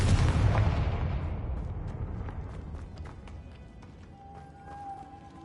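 A Confringo spell explosion in Hogwarts Legacy lands as a loud, close boom at the start, then trails into a long rumbling decay and scattered crackles that fade over several seconds.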